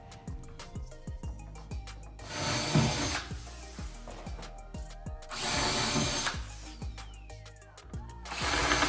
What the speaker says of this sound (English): I'm drilling holes so that I can connect 4 different feet for each one of these 6 separate boxes on the bed.